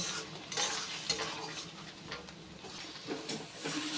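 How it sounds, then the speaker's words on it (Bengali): A spoon stirs and sautés a mutton spice mix with turmeric powder in a pan, giving soft scraping strokes against the metal and intermittent clinks over a faint sizzle, with no talking. "মশলাগুলো আগে খুব ভালো করে মিশিয়ে একটু কষে নেব"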